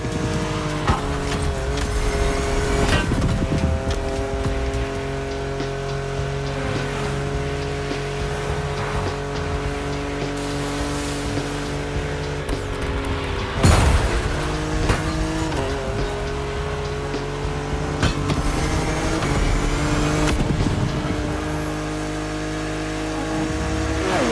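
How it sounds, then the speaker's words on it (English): A Porsche 911 GT3 Cup track race car in The Crew Motorfest, its engine revving hard and climbing through gears, with a few sharp shift breaks and moments of tire squeal, loud and continuous throughout. "We got our hands on the GT3 Cup, a model designed with track racing in mind."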